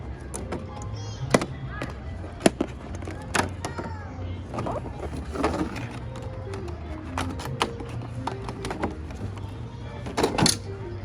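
Plastic clicks and snaps sound close up as the bottom of a cylindrical canister box holding a Spider-Bot toy is unlocked, with irregular sharp taps and rattles over a low background hum.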